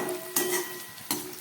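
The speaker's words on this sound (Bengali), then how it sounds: "এই আলু আর পেঁয়াজটাকে আমি খুব ভালো করে এবার ভেজে নেব।" Potatoes and onions with a little turmeric frying in a pan, a soft steady sizzle broken by two louder bursts of stirring and utensil scraping against the pan, close by with no voices.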